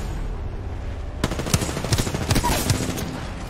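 Gunfire in the Apex Legends video game: a loud burst of rapid shots starts suddenly and repeats in several sharp, close cracks over a low rumbling background.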